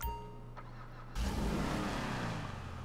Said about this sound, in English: Oh, and it's got a lovely exhaust note.